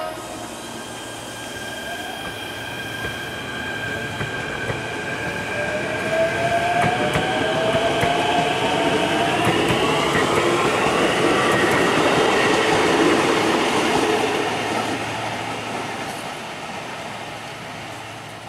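Trains roll past on a busy line, a long steady rumble of rail cars with clattering wheels and squealing, swelling to a peak mid-pass and fading as the train moves away, with no talk.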